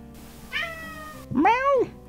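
A cat gives two close meows, a short first call followed by a louder, longer, rising and falling second one, in a quiet indoor setting.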